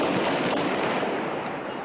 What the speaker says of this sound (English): Palestinian infighting erupts in gunfire on the streets of Gaza.